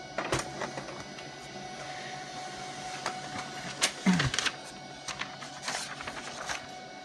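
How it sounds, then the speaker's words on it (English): Home printer printing a shipping label on thin multi-purpose paper, a quiet run of mechanical whirs, clicks and paper-feed clatter with a few sharper knocks partway through. "I print it."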